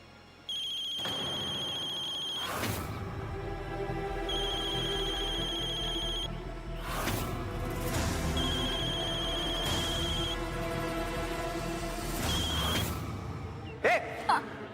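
A telephone rings with an incoming call in a Hindi TV serial scene, four repeated electronic ring bursts at steady intervals over quiet background music, ending with a couple of short knocks.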